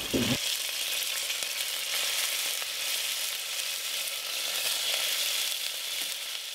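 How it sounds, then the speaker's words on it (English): Lamb sizzles steadily in a hot pan, a dense crackling hiss that continues without pause, close and fairly quiet. "just while that lamb's frying"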